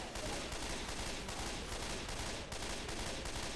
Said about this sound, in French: Mais arrêtez pas de tirer, il est déjà mort.